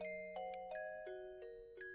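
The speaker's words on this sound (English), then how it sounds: "A bell?" A school bell chime in the video game Higurashi rings out as a clear sequence of sustained, melodic bell tones, each note struck in turn and left to ring, heard alone without voices.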